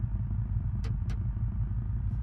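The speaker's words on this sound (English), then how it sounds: "Actually, the engine's already running?" A car engine idling in the BeamNG driving game, a low steady rumble throughout with two brief high swishes partway through.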